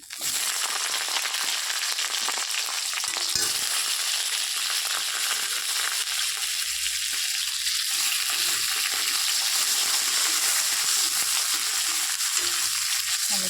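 Pieces of tomato hit a hot pan with ginger and spices, setting off a loud, dense sizzle that stays strong and steady for many seconds, with faint stirring scrapes and no voices.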